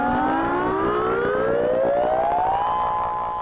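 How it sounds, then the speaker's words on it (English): A loud civil defense siren in Hawaii wails during a monthly practice alert, its pitch rising steadily over a few seconds and then holding a steady high tone. "the sirens sound throughout Hawaii in a practice alert"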